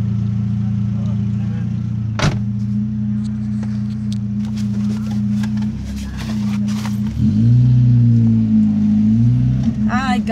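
A car running steadily while stopping to park, its low engine hum continuous and close throughout, with a slight rise near the end and brief interior knocks.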